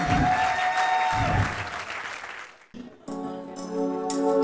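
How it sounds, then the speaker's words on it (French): Audience applause at a Miss Rondes et Jolies beauty pageant in Gabon during the evening-gown round, a dense burst of clapping from a crowd that thins out near the end. "Sous vos acclamations, s'il vous plaît."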